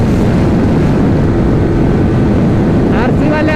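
KTM and R15 motorcycles launch in a race and make a loud, dense engine roar. The sound is broadband and continuous, with a rising whine near the end, and someone talks over it.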